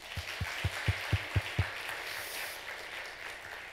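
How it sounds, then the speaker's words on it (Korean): A church congregation applauds during a New Year thanksgiving Sunday service, a steady wash of clapping, with a short run of evenly spaced low thumps near the start before the applause carries on alone. "박수해 주시기 바랍니다."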